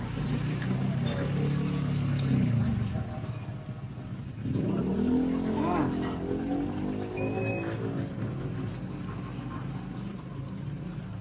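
A car passes by on a street near a cheap roadside eatery. A steady engine drone rises and falls as the vehicle nears and moves off, with a faint voice somewhere in the background.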